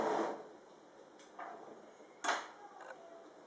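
A kitchen stove being switched on, a few sharp clicks and ticks from the knob and igniter, close and fairly quiet in a still room.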